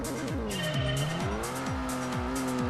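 A Viper GTS in the racing game DT2 accelerating hard over a 400-meter run: a steady engine whine climbs in pitch through repeated gear shifts, each shift dropping the tone briefly before it rises again.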